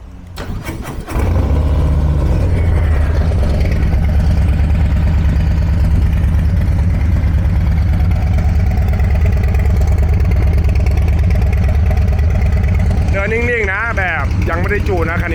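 Untuned Harley-Davidson motorcycle with a full aftermarket exhaust system starts up and settles into a loud, steady, rumbling idle close by, with a rising whine and voices near the end.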